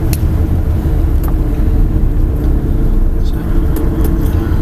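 A truck's engine idles after the truck pulls to a stop, a loud, steady low rumble close by that fills the whole stretch, with a few faint clicks and a brief voice over it.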